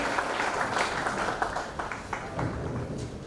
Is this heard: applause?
yes